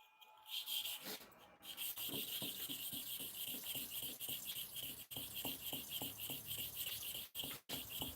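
A barber's blade is sharpened on a stone with steady, repeated rubbing strokes in an even rhythm, close and moderately loud, over a faint high background hiss.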